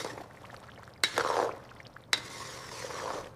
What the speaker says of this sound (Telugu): ఒకసారి కలపండి.